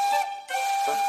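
Emily, the emerald green engine from Thomas & Friends, sounds her train whistle: a bright, steady high tone held for about a second with a brief dip partway through, loud and alone.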